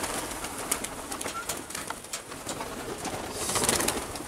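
Fancy pigeons, some of them black, come down to land at a loft in Veria, Greece, with soft cooing under repeated bursts of flapping wings, fairly close and steady throughout with no talk.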